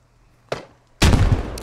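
Explosions in the military shooter game Squad: a sharp blast near the half-second mark, then a loud, sustained rumbling detonation with debris noise filling the last part.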